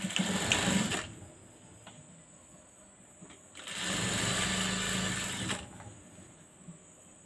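A sewing machine stitching two garment pieces together for a baby frock, its motor whirring in two steady runs separated by a brief pause, close and alone with no talking.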